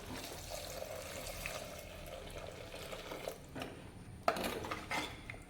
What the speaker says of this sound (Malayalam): ഇനി ഇതിലേക്ക് നമുക്കൊരു മുക്കാൽ ലിറ്റർ വെള്ളം ചേർത്തോളാം